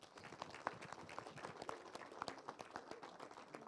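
Sparse, quiet clapping from a small group at the opening of a town fair in Brignoles, individual claps audible and irregular, heard from a distance with faint background murmur.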